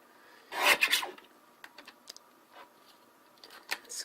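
Card paper is cut for a planner, giving a few short, close scraping and snipping sounds, with one louder burst near the start and softer scattered strokes after it.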